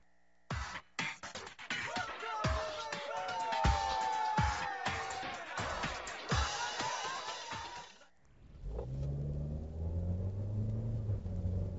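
A 2013 Hyundai Avante starts up and pulls away, with mechanical clatter and a rising engine note giving way to a steady low driving rumble, close by.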